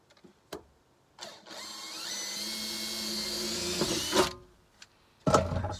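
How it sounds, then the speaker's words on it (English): Center drill boring into thin material, a high whirring drill run lasting a couple of seconds, bracketed by sharp clicks and knocks of handling before and after. "Swap over to the centre drill and go step by step by step until I get to the outside lines."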